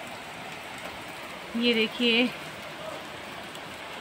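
Heavy rain pours outside an open window, a steady broadband hiss throughout, with someone briefly speaking over it midway.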